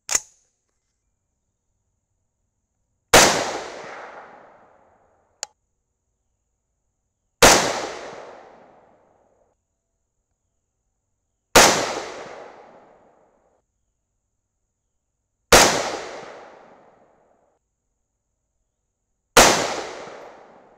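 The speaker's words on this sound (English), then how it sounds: "So I wanna go ahead and shoot this last group." Six loud 6.5 Grendel rifle shots firing 140gr Hornady Match BTHP rounds outdoors, each a sharp crack with a decaying echo, spaced roughly four seconds apart, with one small click between the first shots.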